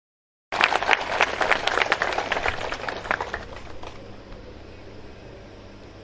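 Crowd at an outdoor political election rally bursts into loud, dense clapping that swells quickly, holds for a few seconds and then thins out into a fading scatter of claps and background murmur.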